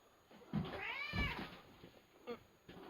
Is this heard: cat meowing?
yes